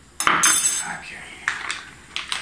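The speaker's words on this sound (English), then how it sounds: "Give that a stir." A utensil clinks and scrapes against a vessel while stirring a superfruit wine mixture, with a sharp knock at the start and a few lighter taps after.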